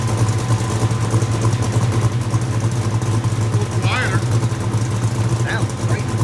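A 1965 Mustang engine with Foxbody full exhaust and Jones mufflers idles with a low, steady burble up close, and a couple of faint higher squeaks rise briefly over the drone.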